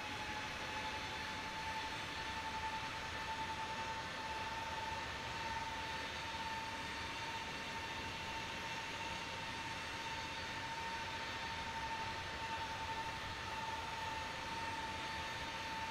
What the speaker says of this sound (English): Advancing throttles to takeoff power.